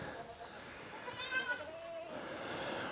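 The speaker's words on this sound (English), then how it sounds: "we have got some goats, and it looks like we've got a new one born this morning." Goats bleat inside a barn on a snowy day, with a newborn kid among them; several harmonic calls rise mid-clip, moderately near, over a steady background with a voice talking.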